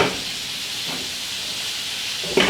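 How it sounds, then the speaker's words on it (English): Broccoli steams in a pot on a home stove, giving a steady, loud, broad hiss that holds without a break, with a faint clatter right at the end. "Broccoli's steaming up good."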